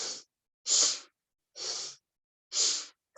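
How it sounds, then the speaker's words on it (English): Forceful, rhythmic exhalations in a yoga breathing exercise: four sharp, breathy bursts through the nose, close and loud, separated by short silences. "Clearing respiratory system."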